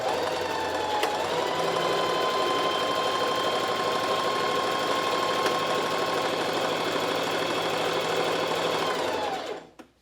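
A sewing machine stitches a buttonhole on homemade pants in one steady, close whirring run of about nine seconds, then stops abruptly. No one speaks.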